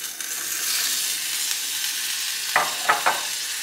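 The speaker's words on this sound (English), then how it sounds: "just gonna add my tortellini to this water right here. Because it's boiling." A pot of water at a rolling boil hisses steadily as fresh tortellini are dropped in, with a few soft splashes and clunks near the end, close and moderately loud, with no talking.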